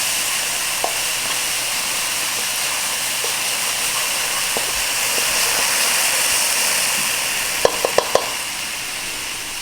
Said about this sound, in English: We're going to stir these for about a minute, just until fragrant.